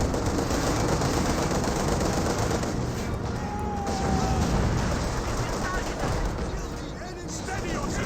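Gunfire from guard squads in Company of Heroes 2 crackles steadily across the battlefield, a dense continuous wash of distant shots and rumbling combat noise with a voice talking over it.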